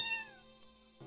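A cat meows once in the video game Nuclear Blaze, a clear, close, drawn-out cry that falls in pitch and fades, followed by a brief low electronic tone.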